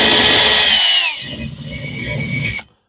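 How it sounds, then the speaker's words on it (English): Rotary tool with a cartridge bit deburring the edge of an aluminum wheel on a Square Body Chevy hotrod: a loud, steady high-pitched grinding whine that drops in pitch about a second in, then rough lighter grinding before cutting off abruptly. "I'm just going to lightly take that edge off. Yep. We're just going to take the burrs off."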